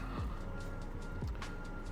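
A van drives along the road at a steady, low engine hum, the sound faint and constant from inside the vehicle, with a few brief low thumps and shifts in the engine tone.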